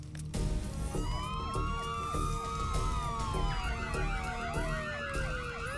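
Several wailing emergency sirens overlap, rising and falling continuously, loud and fairly close, with no talking.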